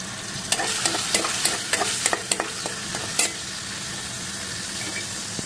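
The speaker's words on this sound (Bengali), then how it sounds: "তার সাথে আমি ডালের কয়েকটা বড়ি ফ্রাই করে নিচ্ছি।" Lentil dumplings (bori) and shrimp frying in hot oil, a steady low sizzle with frequent sharp scraping stirs and spatula taps, fairly quiet and with no voices.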